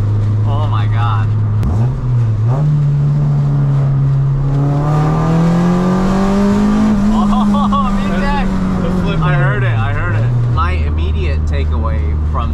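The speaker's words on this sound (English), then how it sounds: "This is how a Honda should sound" A Spoon-built Honda Civic EG6 engine revs up from idle, holds a high, loud, close wail for several seconds, then drops back to a rough idle.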